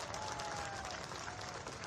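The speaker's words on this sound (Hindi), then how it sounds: "बहुत बहुत धन्यवाद और ताली भी बजाए सब लोग।" An audience claps at a state launch event for a folk artist support scheme, steady faint applause from a crowd throughout.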